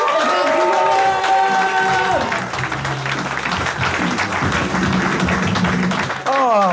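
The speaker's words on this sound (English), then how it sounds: "start clapping, start cheering" An evening audience at a Hartlepool venue claps and cheers in a loud, sustained wave, joined by a few shouted voices, after a brief spoken lead-in at the start.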